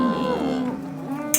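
Cows on a farm mooing, a drawn-out low bellow with wavering pitch, loud and close, with a faint voice in the background.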